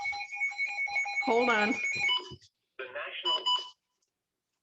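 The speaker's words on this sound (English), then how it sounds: "That's the weather alert." A weather alert alarm sounds steady, high electronic tones that pulse through the first half and return briefly after a pause, while a person talks over it indoors.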